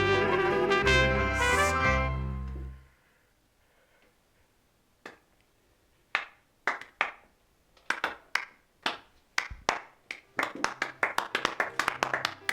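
After a sung phrase ends, scattered individual claps break out, sparse at first and then quickening into a thin, uneven patter of applause from a small audience after a song.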